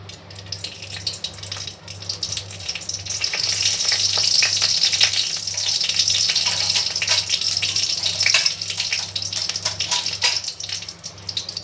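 Dry red chillies fry in a small amount of hot oil, making a loud, steady crackling sizzle up close that swells after the first couple of seconds over a low, pulsing background hum, with no voices.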